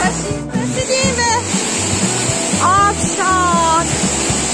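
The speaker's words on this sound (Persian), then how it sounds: "در چند قدمی آبشار هستیم." Rushing waterfall in Narenjbon gorge near Nowshahr, a steady loud roar of falling water filling the scene, with people talking and music playing over it.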